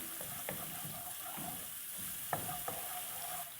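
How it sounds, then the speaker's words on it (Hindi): Steady sizzling of garlic frying in hot oil, with occasional soft clinks and stirring sounds, close and moderately loud, no talking. "लहसुन को थोड़ा सा फ्राई कर लेंगे ऑयल में।"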